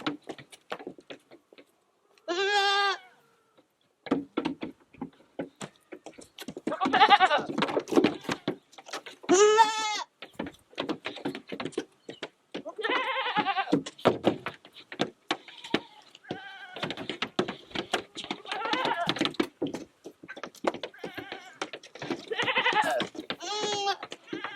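Goats bleating repeatedly in a farm setting, loud close calls scattered irregularly among steady rustling, shuffling and patter of movement throughout.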